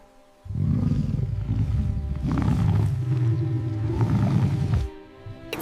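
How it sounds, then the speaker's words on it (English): A lion roars in long, loud, throaty bursts, about three swelling roars running together with no pause, ending abruptly before a brief quiet tail. "It's a lion."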